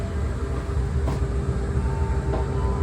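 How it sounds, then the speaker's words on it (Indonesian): A locomotive at Kalisat heritage station in Indonesia rumbles alongside a passenger train, a steady loud low rolling drone filling the whole stretch with no talk over it. "Oh, ada suara loko. Ini loko apa di sampingnya?"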